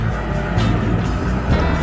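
A motorcycle or scooter sets off along a main road on a winter morning, its engine a close, steady low rumble with slight surges, heard alone.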